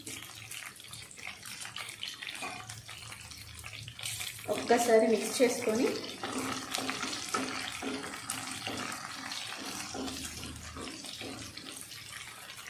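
Washed green chillies sizzle in a covered pan, a steady hiss that swells into a louder crackling burst midway before settling back, while someone talks over it throughout.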